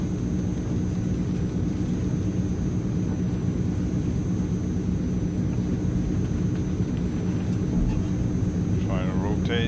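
Transall C160 twin-turboprop cargo plane rolling for takeoff in Microsoft Flight Simulator, a steady loud engine drone with low rumble throughout, joined near the end by a brief voice.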